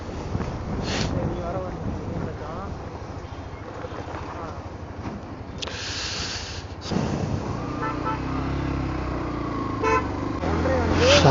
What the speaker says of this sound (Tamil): சரியான டிராஃபிக் ஆச்சு முன்னாடி.